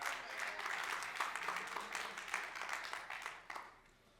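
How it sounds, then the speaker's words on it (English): Clapping from an audience at a board of commissioners meeting, a dense, steady patter of many hands that carries on throughout and thins near the end, with faint voices underneath. "we don't mind the clapping, but we can't hear the speaker when the clapping's going on"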